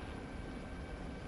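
A steady, loud helicopter rotor and engine drone fills the whole short stretch, close and continuous with no other sounds.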